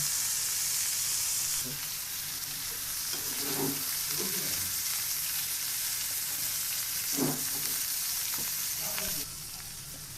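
Polao rice grains frying in a hot pan, a steady bright sizzle running throughout with a few scraping stirs in the middle, close and loud, then the hiss drops near the end.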